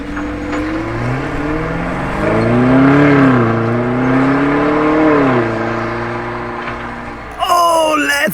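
A twin-turbo V8 car engine roars loudly as it drives past, its pitch rising and falling, with a sharper revving burst near the end.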